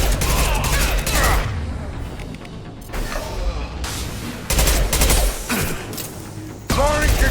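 Concussive shots fired in the video game Mass Effect 2, a run of loud, punchy blasts and booming impacts in bursts with short gaps, mixed with combat noise.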